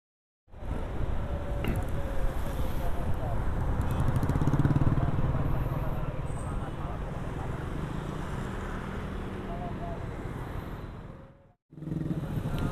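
Motorcycles riding along a pedestrian sidewalk near FX Sudirman in Jakarta traffic, a continuous near engine drone and road rumble with some rising revs, steady and loud throughout before a brief cut.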